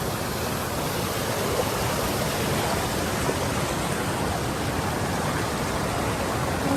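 Fast, rushing stream water along a walking route, a steady loud broadband roar close by that continues unbroken without pauses.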